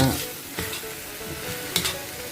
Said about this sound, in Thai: มันสุดๆจริง ๆ เลยครับ กระทะนี้ ผัดเนื้อ